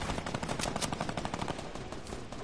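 Rapid, continuous minigun fire from a PS4 shooter game rattles steadily throughout, dense and unbroken bursts at moderate level with no talk.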